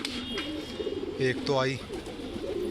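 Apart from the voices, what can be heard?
pigeons cooing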